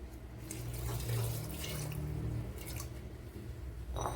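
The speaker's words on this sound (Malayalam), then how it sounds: "ഇനി വേവാൻ ആവശ്യമായ വെള്ളം ഒഴിച്ചു കൊടുക്കുക." Water poured into a cooking pot while making pineapple pulissery, a steady soft splashing stream at low level, with no voices present.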